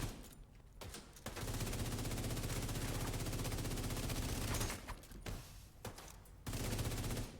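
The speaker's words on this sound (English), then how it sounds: "Switch to our assault rifle." Rapid assault rifle fire from The Division 2 video game, loud sustained bursts over a low steady hum with brief pauses between volleys.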